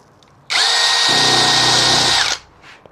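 A power drill whirs loudly and close on rusty metal of a van under conversion, a steady high-pitched whine lasting about two seconds that deepens in tone as it bites, then stops cleanly.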